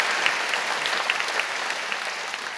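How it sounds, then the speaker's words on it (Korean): A church congregation claps loudly in welcome during a Sunday service, steady dense applause filling the room for a couple of seconds with no talk over it. "우리 불스탠드 여러분 크게 박수로 환영하시죠"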